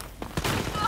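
Gunfire in Wolfenstein: Youngblood, a few sharp broadband bursts over dense game noise, with a brief gap before a sustained loud volley.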